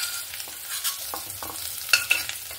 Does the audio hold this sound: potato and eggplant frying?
yes